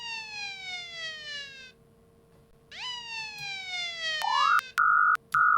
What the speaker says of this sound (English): I just used a royalty-free siren sound effect